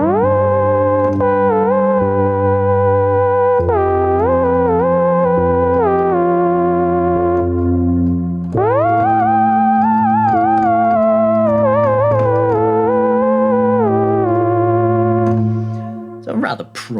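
TAL-J-8, a software emulation of the Jupiter 8 synth, playing a split patch with an arpeggiator on one side: sustained, bright, buzzy chords with shifting pitches, loud and alone, ending in a brief burst.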